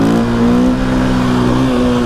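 A KTM EXC 450 supermoto motorcycle pulls hard in second gear. Its engine drones loud and close with a steady, slightly rising note throughout, and no one speaks.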